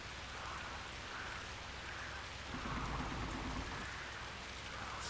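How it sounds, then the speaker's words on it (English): Heavy rain in the driving video game Keep Driving falls as a steady, dense hiss of drops that runs unbroken and fairly faint throughout, with a soft low rumble midway. "Heavy rain has durability effects."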